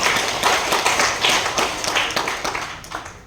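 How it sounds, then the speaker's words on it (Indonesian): Audience at a provincial government coordination meeting in Riau Islands applauding together, a loud, dense round of clapping that holds steady and then tapers off toward the end. "Tepuk tangan untuk kita semua."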